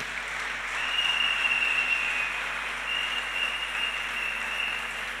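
A church congregation applauding, a dense, steady wash of many hands clapping together at an even level throughout, with no speech over it.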